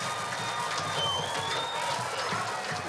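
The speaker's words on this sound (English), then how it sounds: "The crowd noise says it all." Home crowd at a Friday night high school football game, Marion at Chilhowie, roaring and cheering as a steady, loud wash of massed voices with whoops and scattered clapping throughout.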